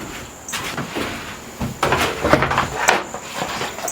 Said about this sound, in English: Let's put the drawers in.